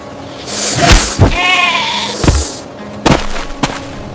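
A goat bleating close and loud, one long wavering bleat followed by several short sharp bursts and knocks, with no talk.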